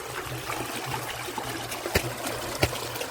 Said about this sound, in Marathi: पाण्याचा आवाज बघा